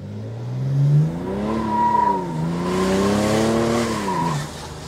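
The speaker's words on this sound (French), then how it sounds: "t'entends le turbo comment il coupe?" A Stage 3 tuned BMW 330d E93 convertible's turbo diesel engine accelerates hard, its pitch rising and dipping through quick gear changes, loud and close throughout.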